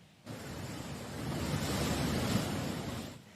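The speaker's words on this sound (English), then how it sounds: "Parts of France were lashed with torrential rain today, causing heavy flooding." Rushing floodwater after torrential rain in France, a dense, loud roaring wash that swells in and stays steady for a few seconds, with wind noise and no voices.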